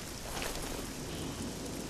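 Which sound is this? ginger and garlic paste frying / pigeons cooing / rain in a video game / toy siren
rain in a video game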